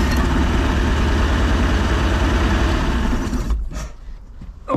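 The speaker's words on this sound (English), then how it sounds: "Still idling higher than I'd like it to be." Boat engine on a long-neglected Raven 195, idling high with a loud, steady low rumble close by, then dropping away near the end.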